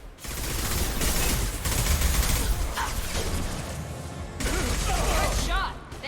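Sustained bursts of combat gunfire in Mass Effect 2 Legendary Edition, a sci-fi shooter video game, crackling steadily with brief lulls, while characters shout over the fighting.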